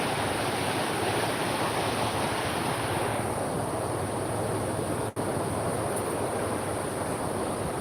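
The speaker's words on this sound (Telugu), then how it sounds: "మస్తు ఫ్లో పోతుంది వాటర్ అయితే చూడండి" Heavy water surges through the opened gates of the Himayat Sagar dam, a loud, dense, continuous roar of rushing flow with no voices over it.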